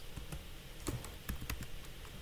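Computer keyboard keys tapped while entering C++ code, giving a sparse, uneven run of crisp, close clicks with a short burst of quick strokes in the middle and no talking.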